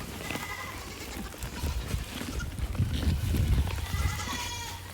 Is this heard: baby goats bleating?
yes